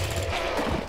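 Rapid gunfire in a first-person shooter video game, a dense, continuous mechanical burst of shots filling about a second, loud and close, with no talking.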